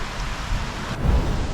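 Steady rain falling on a rural garden plot in Poland, a dense even hiss with a low rumble near the end, continuous and fairly loud, no voices.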